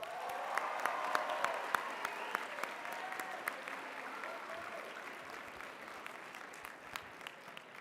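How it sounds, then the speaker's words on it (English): An audience at the HMUN 2026 opening ceremonies applauds the Secretary General, a full, steady clapping from many hands that starts strong and slowly thins over several seconds, with a few sharp individual claps standing out. "Clap it up for Nick."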